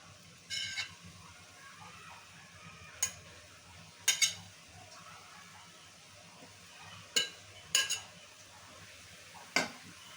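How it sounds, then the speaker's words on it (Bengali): A spoon stirs chopped khesari greens in a cooking pot, with a few sharp, isolated metallic clinks against the pot spread over a quiet background. "এখন দিয়ে দেবো কেটে রাখা শাকগুলো।"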